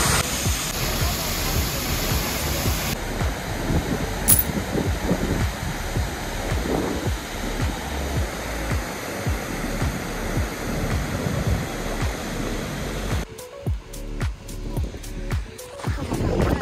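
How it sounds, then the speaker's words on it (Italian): Waterfall in Iceland roaring as a steady, loud wash of falling water with gusts of wind buffeting the microphone throughout. "ad ammirare la cascata, in silenzio"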